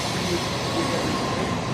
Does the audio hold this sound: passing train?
yes